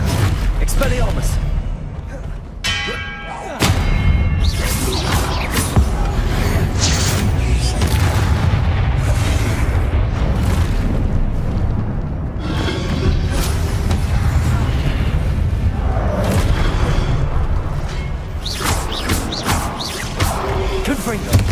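Expelliarmus spell blasts in the Hogwarts Legacy video game during a fight with the Pensieve Guardian, booming impacts and crashing whooshes that repeat densely over the whole stretch, mixed with shouted voices.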